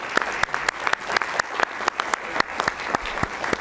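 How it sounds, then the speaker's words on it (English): A small group at a BCC meeting gives staff a round of applause, with individual claps distinct and sparse rather than a dense roar, at moderate volume throughout. "I would like to have a round of applause for you,"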